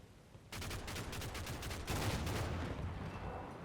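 Sustained gunfire suppresses infantry in the Combat Mission: Battle for Normandy wargame, a rapid burst of shots followed by a dense, continuous fusillade at moderate level.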